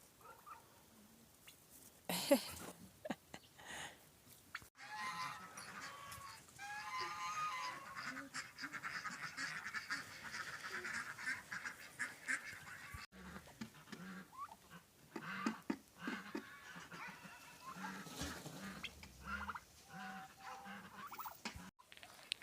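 A drake and other fowl call continuously outdoors in a frozen village at -19 degrees in western Ukraine, a raspy quacking and honking chorus at moderate distance with occasional louder bursts.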